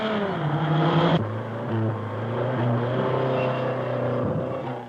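Racing cars and ordinary family saloons on a circuit, engines whining and rising in pitch as one accelerates past, followed by another car's tone shifting through gears, close and loud with no talk.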